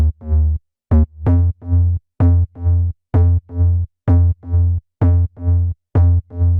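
Deep house bassline made in FL Studio, sidechained to the kick with automation, pumping in a steady rhythm: each bass note ducks to silence and swells back, repeating about twice a second, loud and alone.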